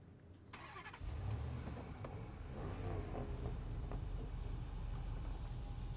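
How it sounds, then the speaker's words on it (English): A V8 engine in a GWC 2019 Spartan truck mod in SnowRunner starts up and settles into a steady, low, rumbling idle, with the engine rising slightly as it runs, close and without talk. "It sounds like a V8 in there."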